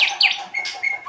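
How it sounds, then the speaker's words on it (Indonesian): Small cage birds chirp and tweet in quick high bright calls, close and clear, several short phrases overlapping with no talk. "ini banyak burung cantik-cantik di sini"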